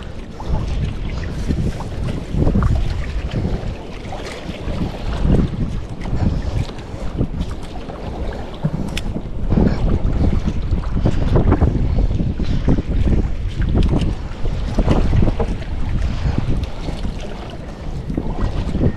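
Strong wind buffets and roars steadily over open water aboard a boat, with no speech.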